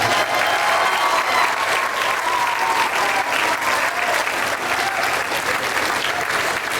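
Large audience at a school spring jazz concert applauding loudly and continuously, a full dense roar of clapping with some crowd cheering mixed in, sustained evenly for several seconds.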